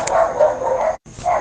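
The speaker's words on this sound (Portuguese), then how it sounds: "Os cachorros aqui, meu Deus." Dogs bark in several quick, loud, close bursts, with a brief gap of silence before a final bark.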